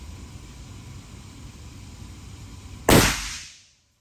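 A single loud .50 caliber rifle shot fired from the shoulder outdoors, a sharp blast that rings and decays over about half a second after several seconds of quiet background hiss.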